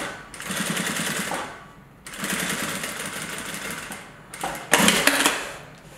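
A sewing machine runs in three bursts, stitching a wax canvas tool roll close to the edge of an earlier seam, with short pauses between the whirring runs and faint talk alongside.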